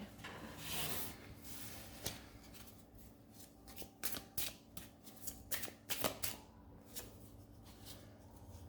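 Cards being shuffled for a daily card reading make quick papery riffles and soft slaps, close and quiet, in uneven bursts with no speech.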